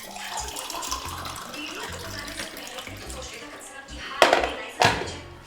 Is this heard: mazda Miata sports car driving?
no